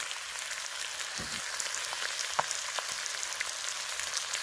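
Meat frying down in a covered pan gives a soft, low, steady sizzle with a few faint pops and crackles, quiet and continuous.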